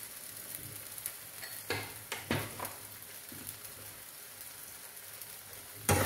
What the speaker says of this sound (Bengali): এবার একটু আমি কষবো, সামান্য কষবো